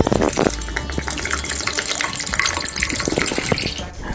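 Water running and splashing into a vessel to soak split green gram, a steady close gush with slight shifts in flow, heard alone.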